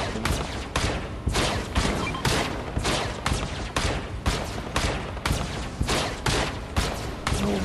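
Rapid bursts of gunfire from a Fortnite battle ring out continuously, overlapping shots and volleys close and loud, with little pause between them.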